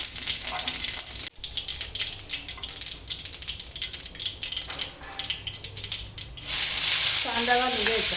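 Mustard seeds and cumin frying in hot oil for a dry karadai greens dish, a steady close crackling sizzle with scattered pops, rising to a louder hiss near the end as a voice speaks briefly.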